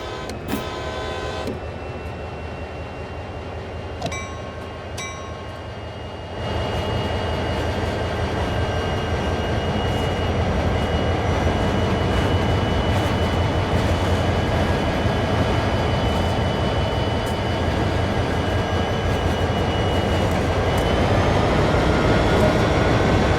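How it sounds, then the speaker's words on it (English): An SD40 locomotive on the Clinchfield Railroad in Train Sim World 2 hums and rumbles steadily, with a brief horn toot early on and a louder, fuller engine drone once it starts moving. "we will be moving this locomotive over to the fuel racks to refuel"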